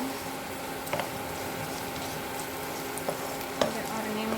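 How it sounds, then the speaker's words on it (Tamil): Curry leaves, chillies and onion sauté in a pan with a soft continuous sizzle, and a few clicks of a spoon stirring stand out now and then under a steady low hum. "இது ஒரு நிமிஷம் நல்லா வதங்கட்டும்"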